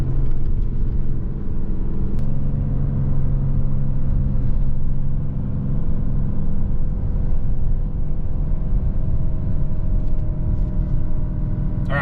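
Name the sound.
2020 RAM 3500 dually truck downshifting on exhaust brake downhill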